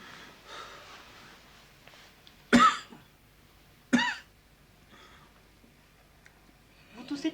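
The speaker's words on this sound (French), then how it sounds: "Vous toussez depuis longtemps?" A patient at a night-time doctor's visit gives two sharp, harsh coughs a little over a second apart, close and loud against a quiet room, with soft breathing and a faint stir at the end.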